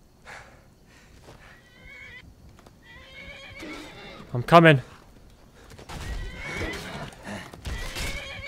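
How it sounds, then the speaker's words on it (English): A horse in the video game Skyrim gives one sharp, loud whinny midway, set among game sounds and clopping hooves. Someone speaks casually both before and after it. "You okay, horse? What are you doing over there?"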